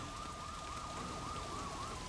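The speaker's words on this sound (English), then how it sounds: "as hard as it's raining outside" Steady rain falls in a video game as a constant hiss, with a wailing siren sweeping up and down over it throughout.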